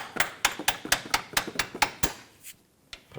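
A hammer taps a bolt into a front lower control arm on a 2006-2010 BMW 550i, about eight sharp metallic strikes in a quick steady rhythm, close and clear, followed by a pause and a couple of softer knocks.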